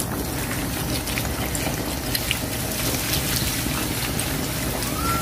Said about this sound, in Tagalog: Ilalagay ko ang Sprite na.